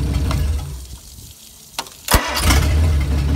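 A Hercules six-cylinder engine cranks over with a brief whir and catches, then settles into a steady, close idle of about 700 RPM.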